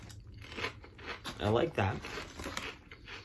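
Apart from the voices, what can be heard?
eating crunchy marinara kettle chips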